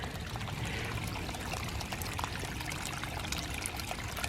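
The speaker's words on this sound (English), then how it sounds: "Some water running down this hill." Water running down a hillside gully outdoors, a soft continuous trickling and pouring flow at low level, steady for a few seconds with no voices.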